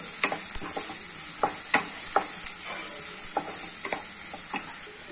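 Continuous sizzle of onions frying in a pan, with sharp stirring clicks and scrapes scattered irregularly throughout, fairly close and moderately loud.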